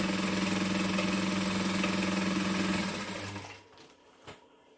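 A sewing machine with a rotary motor stitches down fabric for a Linette bag, its steady whirring hum running loud and close for about three seconds before winding down, followed by a faint click.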